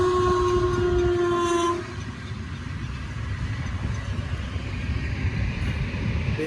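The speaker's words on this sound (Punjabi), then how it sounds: "ਸਾਹਮਣੇ ਟ੍ਰੇਨ ਆ ਰਹੀ ਆ ਆ ਦੇਖੋ ਜੀ ਇਹ ਜਾ ਰਹੀ" A train passes near fields in Punjab, a horn sounding briefly at the start before the steady loud rumble and clatter of the wagons rolling by close at hand.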